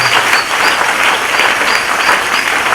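A church congregation applauding during a Sunday worship service, steady dense clapping that holds at an even level throughout without breaks.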